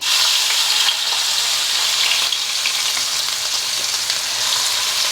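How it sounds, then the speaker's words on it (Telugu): Onions frying in hot oil with fenugreek seeds for a small-fish pulusu curry, a loud, steady sizzle and crackle close up, with occasional stirring scrapes and no speech. "అన్నప్పుడు మనం ఉల్లిపాయ వేసేయాలి"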